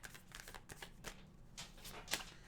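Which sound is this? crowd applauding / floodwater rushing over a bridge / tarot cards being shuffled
tarot cards being shuffled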